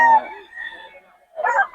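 A gamecock rooster crows at an outdoor market, with a short call at the start, a quieter trailing note, and a louder crow near the end, all close and clear.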